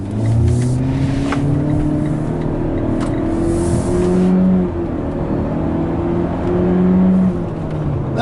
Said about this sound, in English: I'll show you guys a little bit of acceleration.